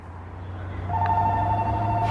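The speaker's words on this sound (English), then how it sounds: "Hey, the phone ringing" A phone rings inside a car with a steady electronic tone that begins partway through. It sounds fairly loud and clear over a low engine or cabin hum.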